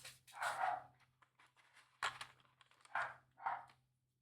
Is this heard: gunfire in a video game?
no